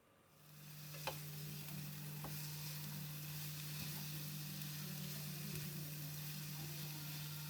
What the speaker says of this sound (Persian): یه مقداری کمی تفت میدم